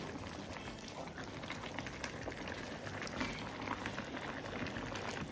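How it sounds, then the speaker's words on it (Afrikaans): A pot of beef, cabbage and sweet potato bubbles and churns as it is stirred, a continuous wet simmering crackle with small splashes and spoon movements throughout, fairly close and steady, with no talking. "Nou roer ons die pot om."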